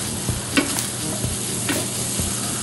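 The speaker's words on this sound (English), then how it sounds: "the purpose of sauteing this is so that you can get the right consistency to your hot dogs" Hot dogs sautéing in a pan over medium-high heat for a corn dog casserole: a steady, loud, close sizzle with a few soft scrapes and stirring knocks, and no talking.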